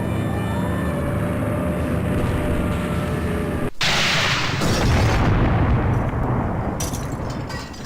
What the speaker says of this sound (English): the Nazis are dropping bombs on us